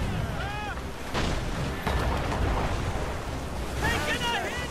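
Ship cannons boom amid ocean waves and wind in a naval battle in Assassin's Creed Rogue, heavy blasts landing over a constant sea rumble with shouted crew voices and gull cries.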